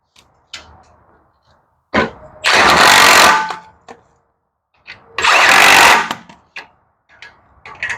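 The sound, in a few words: tightening motor onto Barbie scooter with tools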